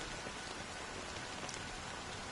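Steady rain falls in the Honkai Star Rail video game, a dense, even hiss of drops hitting surfaces with no pauses, heard alone.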